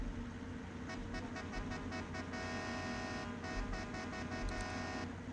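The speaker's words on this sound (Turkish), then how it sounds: "Kornamızı bir deneyelim ya." Bus horn in the Bus Simulator Ultimate video game, sounding in several short honks and a longer held blast over a steady engine rumble, no speech.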